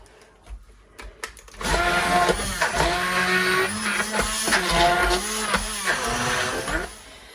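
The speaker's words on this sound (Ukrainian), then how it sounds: "І так, беремо блендер." A kitchen blender whirs loudly and steadily for several seconds, its pitch wavering as it purees thick beans for hummus, with no talking.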